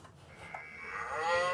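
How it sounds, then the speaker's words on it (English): A cow moo from a Nickelodeon Talk Blaster toy phone from the 1990s, a single drawn-out electronic moo that swells in loudness toward the end, heard alone. "but there's a cow."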